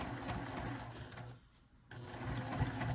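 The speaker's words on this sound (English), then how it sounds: "I'm just going to go ahead and stitch this down." A sewing machine stitches across a small coin and card zipper pouch, a steady mechanical whir that dips briefly mid-stitch then resumes, close and moderately quiet with no talking.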